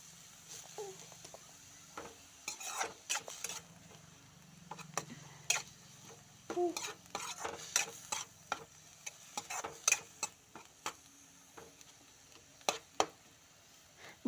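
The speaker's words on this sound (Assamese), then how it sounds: "ঘিউ দি পিনে জাতিলাওখিনি ভাজি লম" Grated bottle gourd frying in ghee in a kadai, stirred with a spoon in a steady run of scraping strokes and clicks over a low sizzle, close and fairly quiet, with no talk.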